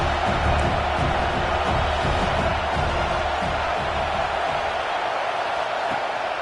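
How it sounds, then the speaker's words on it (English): College football stadium crowd roaring loud and unbroken, a dense wash of cheering voices filling the stands as the visiting offense lines up, with faint low thumps beneath the din. "This crowd going to try to make life miserable for these guys."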